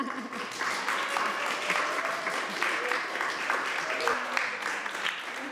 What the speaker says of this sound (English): Give a round of an applause to Dr. André.